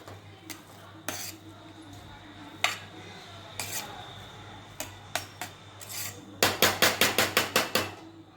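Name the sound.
mixing bagara rice with ghee in pot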